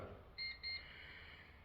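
Two short, high electronic beeps sound in quick succession as the timer button is pressed on a Profilo built-in oven, faint against a low, steady background hum.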